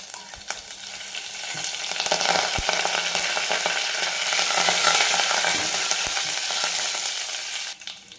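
Fresh curry leaves crackle and sizzle in hot oil, a loud continuous frying hiss that swells midway with a few sharp pops, then cuts off near the end.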